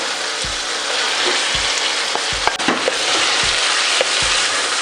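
Marinated beef frying with tomatoes in a pan for Filipino beef nilagpad, a broad steady sizzle with periodic soft knocks of a utensil, close and loud.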